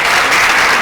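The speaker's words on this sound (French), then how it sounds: "Un maximum d'applaudissements." Audience applause at a theatre show, a dense, loud wash of clapping filling the whole moment without pause.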